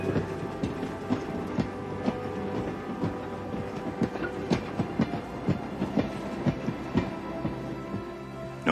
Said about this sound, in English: what happens when a light is switched on as Henry's train moves by